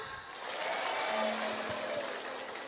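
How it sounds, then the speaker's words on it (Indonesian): Audience applause at a stage show in Indonesia, a moderate, fairly distant patter of clapping that swells briefly and then eases off. "Tepuk tangan."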